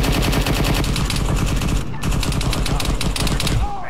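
Sustained automatic gunfire from Arma 3: Apex, rapid loud bursts of rifle and machine-gun shots rattling continuously with only a brief gap, dense and close.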